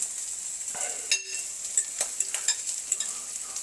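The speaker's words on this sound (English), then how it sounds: "Hot pan, eggs in." Eggs hit a hot pan alongside sausage, giving a soft, steady sizzle broken by a sharp clatter and several light scraping, tapping strokes, all fairly quiet and close.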